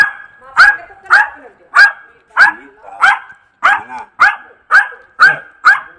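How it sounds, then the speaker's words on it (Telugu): A trained dog about ten years old, in a garden with a fruit orchard, barks in a steady rhythm of about ten sharp, loud barks spaced roughly half a second apart, close to the listener. "ఎంత ట్రైనింగ్ డాగ్ చూడండి"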